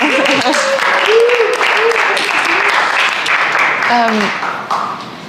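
An audience applauds at an NFT art and virtual reality event in Switzerland, with clapping running under voices that speak over it before fading at the end.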